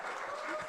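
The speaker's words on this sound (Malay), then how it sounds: "tepukan untuk Diamond Linda." Audience applause at a business awards stage event, a short burst of steady clapping from a crowd.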